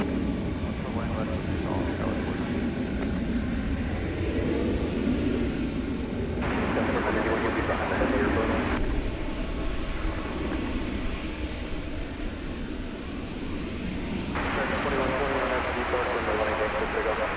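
A jet airliner at DFW Airport at night, readying for a long-haul flight of about 6,600 miles, gives a steady loud engine roar throughout with shifting broadband rumble, and a voice talks over it.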